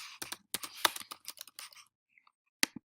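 Someone types on a computer keyboard while filling in a name in an iOS contacts app. Quick, close bursts of crisp keystrokes are followed by a short pause, then a few final taps.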